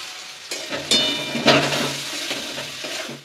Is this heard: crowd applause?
no